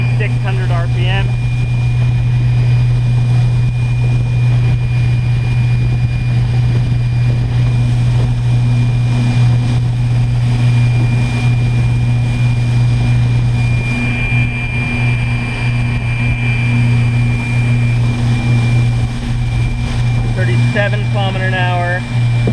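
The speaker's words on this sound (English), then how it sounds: "just giving me a lot of resonation off the bottom of my hull. It's making a lot of noise." Electric boat motor drawing heavy current at speed, the hull resonating in a loud, steady low drone with a constant hum throughout, while someone speaks briefly near the start and end.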